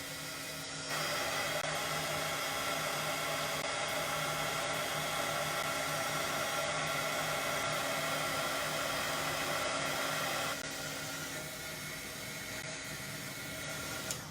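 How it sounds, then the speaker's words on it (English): A heat gun drying paint on a DIY paper craft runs as a steady, loud blowing roar for about ten seconds, then cuts to a quieter hum, close up with no voices. "Let me try to dry it up using hot gun."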